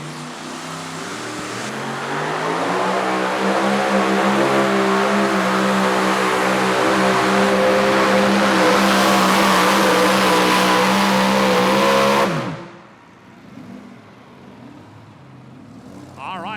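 A super modified two-wheel-drive pulling truck at a tractor pull in Goshen, Indiana, roars at sustained high revs for about twelve seconds and then cuts off abruptly, leaving quiet crowd ambience.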